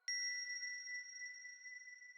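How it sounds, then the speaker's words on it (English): A synth patch built on a rings resonator rings out a glockenspiel-like bell tone: one clear struck note that sustains bright and pure, slowly fading, quiet and alone. "We've got a glockenspiel kind of bell-like vibe."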